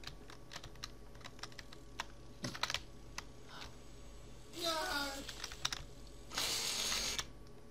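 Typing on a computer keyboard set to Bulgarian layout during a Guts and Glory gaming session, quick irregular clicks close to the microphone, with bursts of voices and game sound in between.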